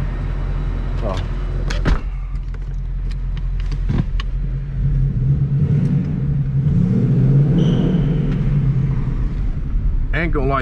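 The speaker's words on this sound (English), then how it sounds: "this car like drives as if it's a manual" A 2020 Ford Mustang GT with a 10-speed automatic drives along, its steady low engine and road rumble continuous throughout, with a few sharp knocks and interior clunks near and occasional faint speech.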